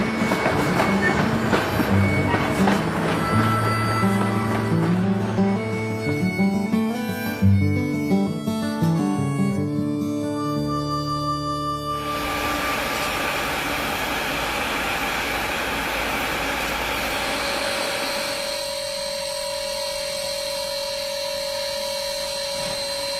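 White Pass and Yukon Route Railroad excursion train rolling on rails, loud and close with rhythmic clatter and tonal wheel and horn-like notes, steadying into a sustained hum and whine as it continues.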